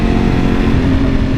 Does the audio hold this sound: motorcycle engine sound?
yes